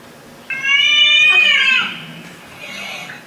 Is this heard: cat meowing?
yes